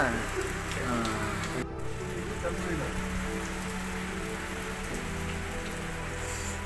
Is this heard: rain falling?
yes